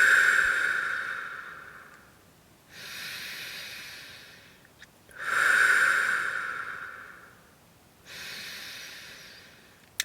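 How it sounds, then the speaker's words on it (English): Slow, deep breathing during a guided breathing exercise, with long airy inhales and exhales alternating in a steady rhythm, close and alone. "I am breathing in. I know I'm breathing in."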